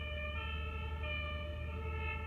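A steady electronic ambulance siren wails continuously over low road rumble, moderately loud and sustained throughout without pause.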